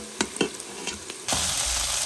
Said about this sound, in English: I am on a saute mode, making my onions a little bit golden brown